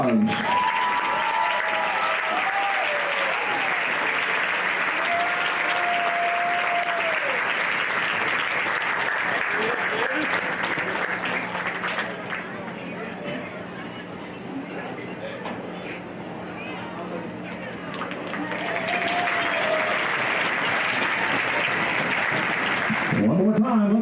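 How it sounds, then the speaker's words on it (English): A stadium crowd at a high school football game between Mountain Home and Pulaski Academy claps and cheers in sustained, loud applause, dipping briefly midway before swelling again, with whistles and voices mixed in. "would you please rise and give her a round of applause?"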